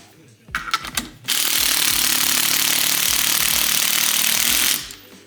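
A loud, continuous power-drill whine runs steadily for several seconds after a few short bursts and clatters, compressing a lowering coil spring for a 2022 Honda Civic Si, then cuts off abruptly.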